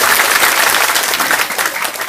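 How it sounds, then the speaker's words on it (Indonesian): Dense, loud applause from a large audience at an Islamic religious talk, continuous crisp clapping for about two seconds that tapers slightly near the end. "Tepuk tangan."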